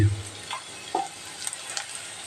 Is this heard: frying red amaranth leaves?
yes